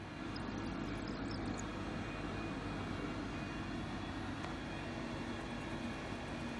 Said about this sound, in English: So we're taxiing down to 12 left.